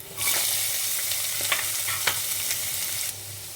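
Chopped onion pieces dropped into hot oil in a pan for bitter gourd fry, giving a loud, close, continuous sizzle with brief crackles and stirring scrapes.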